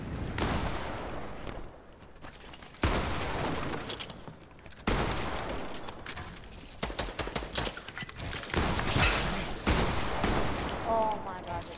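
Bursts of rapid gunfire from a Fortnite match, loud and dense, stopping and restarting several times with short gaps between volleys.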